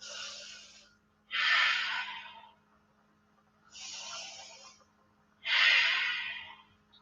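Slow deep breaths during a strong, slow yoga flow: four long audible exhales and inhales with quiet pauses between, close and clear.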